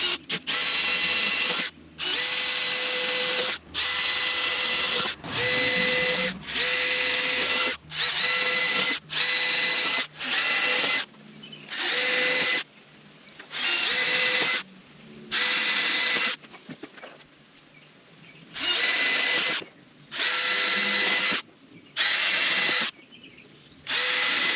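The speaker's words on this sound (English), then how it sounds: "I just drilled through 14 sheets." Power drill boring through a stack of 14 metal sheets on a barndominium build, whining loudly in a long series of short, near bursts separated by brief pauses.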